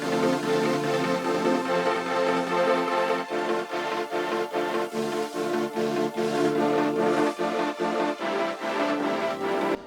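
A beat built from drum sounds out of a pink sound kit, EQ'd to remove the low end, for a track: steady loud rhythmic hits over a dense layered loop, with no voices.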